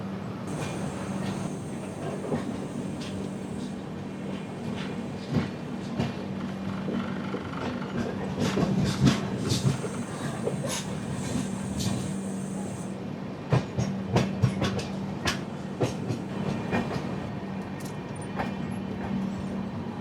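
The 16332 Express rolling along the rails past coaching depot sidings, a steady rumble with clicking wheel joints and occasional metallic squeals, heard from inside the moving train without talk.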